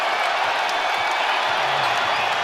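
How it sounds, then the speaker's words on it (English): Sold-out arena crowd at a Minnesota Timberwolves basketball game roaring its approval, a broad, steady wall of cheering and noise sustained throughout, loud and unbroken. "this sold-out crowd thundering its approval"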